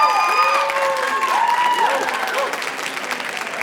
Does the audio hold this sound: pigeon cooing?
no